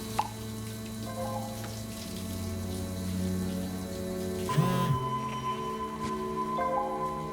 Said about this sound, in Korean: 앙헬이 샤워를 하던 중